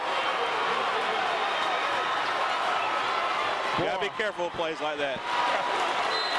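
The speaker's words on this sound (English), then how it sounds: "Too big a crowd in here." A dense, loud crowd roar fills a high school basketball gym, Dothan versus Northview, running steadily through the whole clip while a commentator speaks over it.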